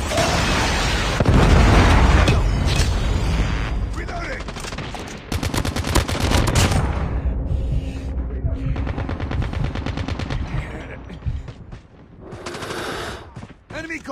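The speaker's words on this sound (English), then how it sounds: "Friendly predator missile." Call of Duty Mobile battle with a predator missile strike amid heavy gunfire: loud sustained automatic bursts and booming impacts, dense and continuous, thinning into scattered shots toward the end.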